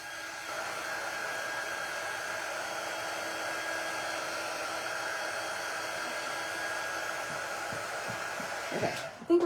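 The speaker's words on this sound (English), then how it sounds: "let me just hit it with the dryer again" Steady, loud whooshing roar of a hair dryer blowing on fresh paint runs continuously for nearly the whole stretch, then cuts off with a few handling clicks at the end.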